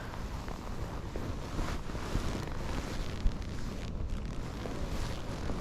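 Strong wind buffeting the microphone on river ice while ice fishing, with a constant low roar and rumble, no voices present.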